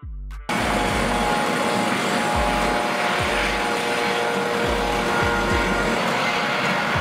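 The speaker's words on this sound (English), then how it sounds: "A helicopter used by law enforcement for tasks such as surveillance, pursuit, traffic control, and search and rescue operations." A police helicopter flies with a rapid, steady rotor thump over a loud broadband engine roar, constant and close throughout.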